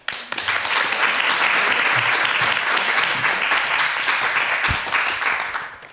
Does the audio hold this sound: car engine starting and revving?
no